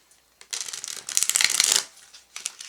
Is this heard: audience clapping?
no